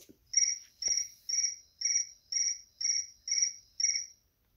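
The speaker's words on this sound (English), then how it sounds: "Crickets." Eight evenly spaced cricket chirps from a phone ringtone repeat in a steady rhythm, clean and electronic-sounding, with nothing else playing.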